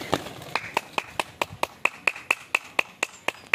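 A steady series of sharp hand claps, about fifteen in quick even rhythm, close and clear over a quiet background.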